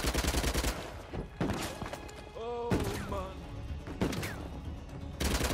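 Dense, rapid gunfire bursts from the video game Uncharted: The Lost Legacy fill the scene, with sharp broadband cracks and a brief tonal radio-like beep pattern midway; a man mutters briefly in German over the shooting.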